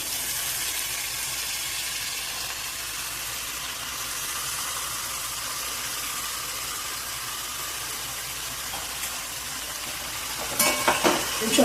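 Fenugreek greens dropped into hot oil with potatoes in a pan, producing a steady broad hissing sizzle throughout, with a few louder spatters and clatters near the end.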